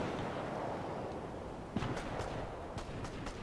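Distant, muffled gunshots in a video game, a few soft cracks scattered over a dense, rumbling background with no talk.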